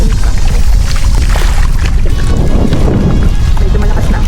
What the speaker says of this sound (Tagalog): Medyo malakas na ang hangin at ang alon